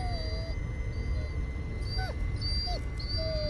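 Dog Bullet whimpering in the horror game Blair Witch: a few thin, high, sliding whines come and go over a steady low ambient rumble, faint and intermittent.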